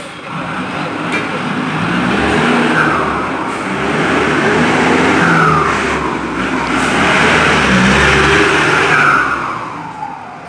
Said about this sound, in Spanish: Aquí en este motor el mejor turbo para cantar es el Pulsar.